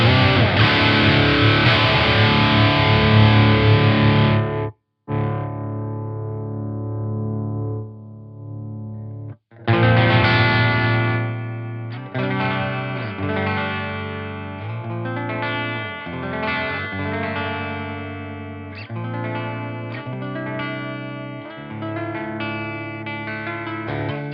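Electric guitar played through a Dover DA-GVP amp into a Synergy power section with an impulse response: dense distorted chords and riffs, loud and close, with two brief stops before playing resumes alone.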